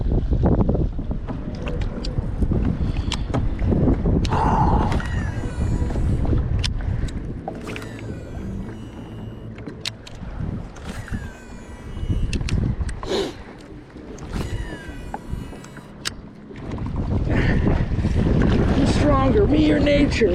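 Wind gusts buffet the microphone on a spring day as a kayak is paddled across a lake, with water sloshing against the hull and rising and falling blasts, while someone talks intermittently.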